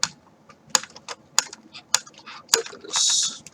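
A small screw being backed out of a Maisto die-cast model, producing a close run of sharp, uneven ratcheting clicks that ends in a brief, steady whirring rasp.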